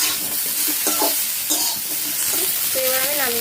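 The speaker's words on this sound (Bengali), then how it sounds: "আবার একটু নাড়াচাড়া করে নামিয়ে নেব।" Cauliflower roast stirred in a hot pan, continuous sizzling with repeated scraping and clattering of the spatula, close and steady, without talking.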